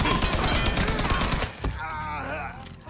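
A rapid burst of gunfire rattles close in Mafia 3, shots packed tightly for over a second before cutting off, followed by quieter game ambience and a voice speaking.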